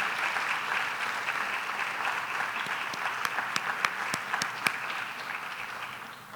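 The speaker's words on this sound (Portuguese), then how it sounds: "a pedir só mais uma salva de palmas para os colegas" An audience at a research data management forum's flash talks session claps for the presenters, a steady dense round of applause with a few sharper individual claps near the end, no talking.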